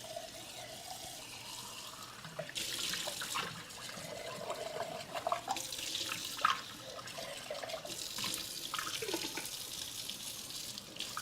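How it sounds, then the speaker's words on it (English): Water from a kitchen sink tap runs steadily while a jar is rinsed, with splashing and sloshing bursts as the jar fills and empties. Close and continuous, with no talk. "Let me rinse out this jar so I can put it in the recycling."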